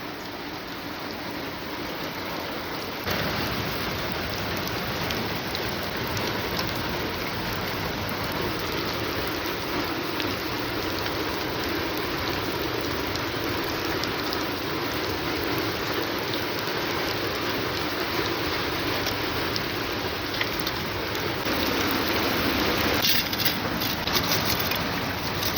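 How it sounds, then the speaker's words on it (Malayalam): Heavy rain pours down in a steady, dense hiss that holds at an even level throughout, with no voices and no breaks. "നല്ല മഴയാണ് മക്കളെ"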